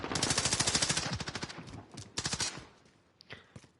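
Rapid automatic gunfire in an esports shooter match, a dense burst of sharp repeated shots followed by scattered single cracks, trailing off into quieter game sounds with a commentator's voice faintly underneath.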